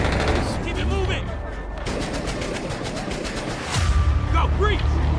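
Rapid bursts of automatic gunfire in a video game firefight, dense and loud throughout, with shouted voices mixed in and a heavier volley near the end.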